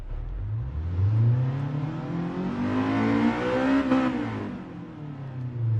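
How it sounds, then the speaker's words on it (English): A Honda Type R's B18 engine in GT Sport revs out hard, its exhaust note climbing and falling in long sweeping pitches, loud and close, with no talk over it. "That's always a joy to rev out the B18, of course. That iconic exhaust note."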